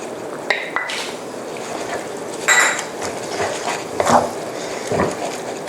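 Spaghetti carbonara with egg yolk being tossed in a pan over raised heat gives a few metallic clinks and scrapes over wet, sizzling stirring, fairly close and with no talking.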